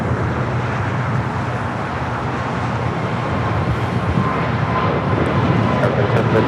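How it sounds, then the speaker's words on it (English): A Boeing 787-10 Dreamliner jet on flight 602 to Amsterdam gives off a continuous, fairly loud engine roar at Los Angeles International Airport, with faint traffic noise mixed in. "Heading back to Amsterdam, flight 602, 787 and 10 Dreamliner."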